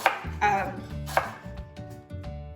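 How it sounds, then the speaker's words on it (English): A knife cuts through unpeeled ginger on a board in a handful of distinct chops, crisp and close, spaced irregularly with short pauses between strokes. "Cutting the ginger."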